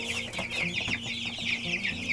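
Freshly bought chicks, meant to grow into laying hens, cheep in a dense, continuous chorus of high chirps. A low, steady farmyard rumble sits underneath throughout.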